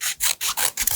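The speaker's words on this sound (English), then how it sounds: "I'm going to trim a little bit right off the bottom." Scissors trimming the bottoms of paper bear ears for a craft, giving four quick, close rasping snips in a steady rhythm, with no voices.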